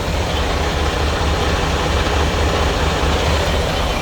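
A 2019 Freightliner Cascadia truck idles just after a cold start, a steady, loud, low diesel rumble that holds evenly throughout with no talk.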